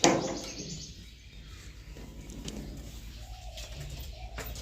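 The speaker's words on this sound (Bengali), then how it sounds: "পায়রাগুলো ওখানে বসে আছে উপরে" Pigeons perched high inside a coop coo softly at a distance, with faint low rolling calls over a quiet room background.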